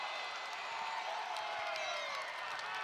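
A basketball arena crowd cheers and claps after a blocked shot at a college game, a broad steady roar filling the space for a few seconds.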